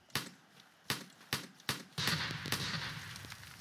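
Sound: grenades exploding in a Roblox battle royale video game

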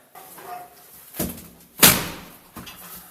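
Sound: door being opened by police

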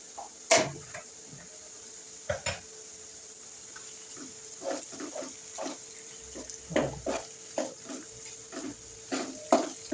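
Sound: stirring ginger garlic paste into frying pieces in a pan

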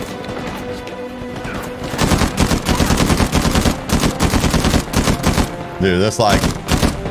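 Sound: machine gun fire mowing down enemies in Uncharted 4 (video game)

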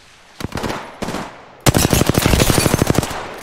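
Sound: gunfire in the video game Apex Legends

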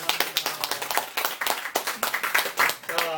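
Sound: congregation clapping in church

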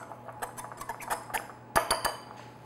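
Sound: whisking flour with spices in a bowl

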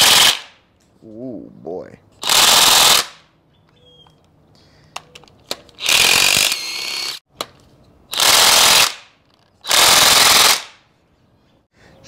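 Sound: cordless electric impact wrench removing engine mount bolts

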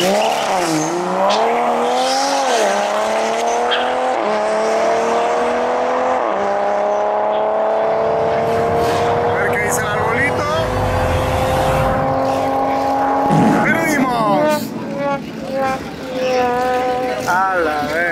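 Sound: 800hp Honda Civic turbo race car accelerating

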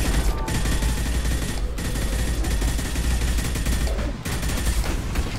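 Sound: heavy machine gun firing in Mass Effect 2 video game

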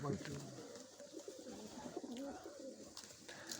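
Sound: pigeons cooing

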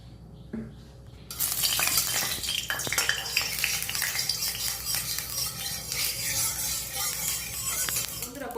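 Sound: mustard oil heating and sizzling in a wok

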